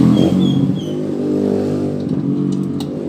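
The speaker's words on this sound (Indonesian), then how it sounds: "Ini motor jelas-jelas hidup ya teman-teman ya, jelas-jelas hidup." A Honda Revo Absolute motorcycle engine runs close by at a steady, loud idle with a throbbing low rumble and slight rises in revs, with no talking.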